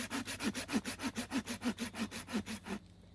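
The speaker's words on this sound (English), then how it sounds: "I'm probably going to do a cut with this pruning blade, pruning or wood blade" Folding saw with a pruning blade cutting through dry cedar, about a dozen steady rhythmic back-and-forth rasping strokes, close and loud, stopping just before the end.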